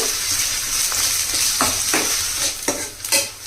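Green chillies and a sprig of curry leaves fry in hot oil in a pan, giving a loud, continuous close sizzle broken by a few sharp stirring scrapes.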